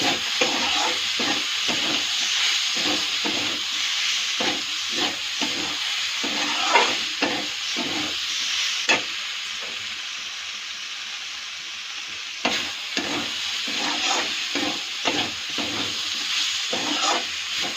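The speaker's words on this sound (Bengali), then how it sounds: "চিনি দিয়ে সুন্দর ভাজা করবো।" Food stir-fried with sugar in a pan, giving a steady loud sizzle and hiss broken by regular scraping strokes of a spatula throughout, with no talking.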